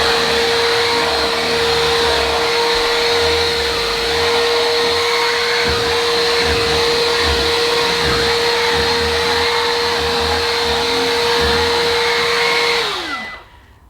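A Gtech Prolite handheld vacuum cleaner runs with its hose attached, giving a loud, steady whine that holds evenly for about thirteen seconds before winding down at the end, with no talk over it.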